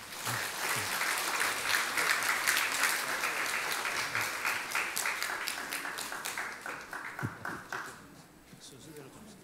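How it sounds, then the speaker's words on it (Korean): A church congregation applauds new members at a Sunday service, with dense clapping that holds for several seconds before thinning into separate claps and fading. "자, 박수 한번 쳐주시기 바랍니다."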